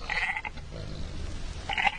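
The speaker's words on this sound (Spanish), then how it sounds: "donde él estaba pastando sus ovejas" Pastured sheep bleat twice, once at the start and once near the end, with a low rumbling background between the calls and no speech.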